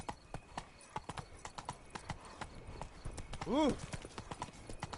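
Roach, a horse in The Witcher 3, gallops with rapid, rhythmic hoofbeats throughout, close and steady, while a brief vocal exclamation rises over the hooves near the end.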